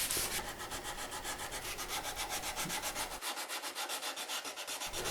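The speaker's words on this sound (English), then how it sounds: "And then a quick bit of sanding got it to where I needed it." Steady rhythmic hand sanding of a Telecaster guitar body, a rapid back-and-forth rasp of abrasive on wood, close and continuous, with no voices.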